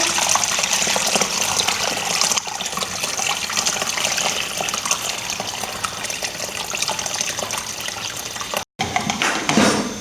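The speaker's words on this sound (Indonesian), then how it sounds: "Oke, sekarang kita campur dengan airnya, bisa dituang." Warm water, about 40 degrees, is poured into an herbal jamu mixture, making a steady loud gushing splash that runs for the whole stretch with one brief break near the end.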